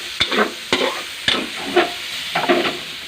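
Onions, garlic and chili sizzle in a hot pan while a utensil stirs them, with several sharp scraping clicks over a steady frying hiss, close and alone.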